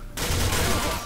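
A short, loud burst of rapid gunfire fills about a second of the first-person shooter game Arctic Combat, with nobody talking over it.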